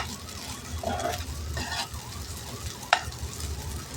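Sabudana khichdi with crushed peanuts being stirred in a pan, a low sizzle under scraping spoon strokes and one sharp clink of utensil on metal, close and moderately quiet.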